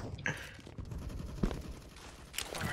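P90 submachine gun fire in a Counter-Strike-style shooter game, with sharp short bursts of gunfire near the start, middle and end over continuous game ambience.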